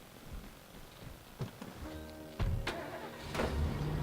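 Car engine in State of Decay, a low idle with door thumps and a starting rev, then a rising engine note near the end, moderately quiet and close.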